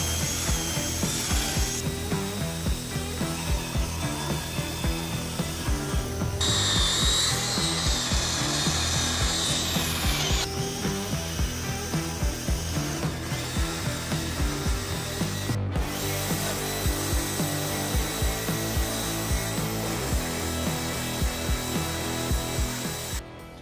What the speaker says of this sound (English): It's just a wire brush attachment to the end of my drill